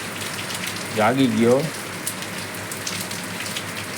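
Steady rain falls outdoors, a continuous soft patter on surfaces, while someone speaks briefly over it partway through.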